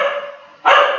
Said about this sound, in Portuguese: Hoje a sinfonia dos cachorros realmente está